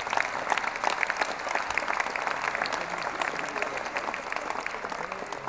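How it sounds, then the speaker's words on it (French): An audience at a civic New Year's greetings ceremony in Dijon claps together in steady, sustained applause that stays even throughout, from a large room. "on va applaudir ensemble, ça va permettre de saluer les autorités"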